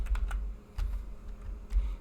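Someone typing on a computer keyboard to log in, a quiet, close run of separate key clicks in short irregular bursts with brief pauses.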